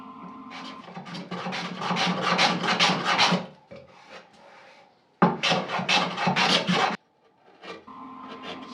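Rhythmic rasping strokes of a hand tool scrape across wooden bench legs in quick bursts, pausing briefly between runs, close and loud.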